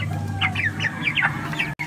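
Chickens cluck on a farm, a quick run of close, busy clucks over a low steady hum of background noise.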